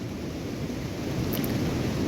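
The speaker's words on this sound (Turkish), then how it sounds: "Derenin sesini duyuyorsunuz zaten. Bu arada yağmur da yağıyor." A rushing stream beside a rainy campsite at İkizdere in Rize, a continuous low roar of flowing water and rain, loud and close with no voices.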